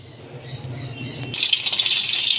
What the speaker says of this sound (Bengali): ডিম আমি ভালো করে ভেজে নিচ্ছি লাল করে ডিম আমি ভেজে নিচ্ছি